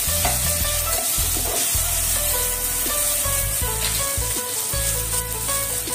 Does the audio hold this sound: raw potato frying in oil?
yes